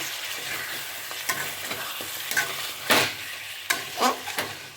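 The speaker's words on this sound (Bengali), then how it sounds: "সুন্দর কষানো হচ্ছে, এখনো কষবে।" Goat meat curry being sautéed Bengali style in a pan, a close steady sizzle broken by several sharp scraping stirs of a ladle, with no talking.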